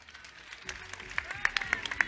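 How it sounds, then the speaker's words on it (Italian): Audience applause at an outdoor summer music event in Acquaviva delle Fonti starts faint and scattered, then sharper individual claps pick up toward the end. "Quindi vorrei fare un applauso ai presenti."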